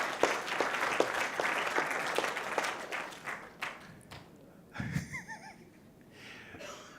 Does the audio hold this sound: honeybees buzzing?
no